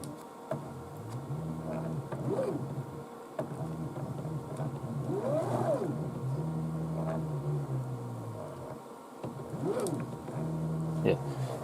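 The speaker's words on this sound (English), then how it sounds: "I'm really liking how quiet and smooth these steppers are." Stepper motors drive a DIY CNC router through its first movements, giving soft whirring tones that rise and fall in pitch as the axes speed up and slow down, quiet and smooth, repeating several times.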